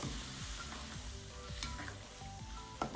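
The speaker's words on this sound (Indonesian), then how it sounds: "Setelah bumbu-bumbu sudah masuk dan air sudah mulai mendidih, kita bisa masukkan lagi kacang nasi tadi." Kacang nasi beans cooking in boiling mushroom broth with spices, giving a steady bubbling, sizzling simmer that stays constant and moderately quiet throughout, with no talking.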